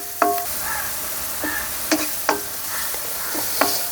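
Drumstick thoran with salt and turmeric sautéing in a pan, a soft background sizzle with a handful of sharp spatula scrapes and taps spaced irregularly, close up and with no talking.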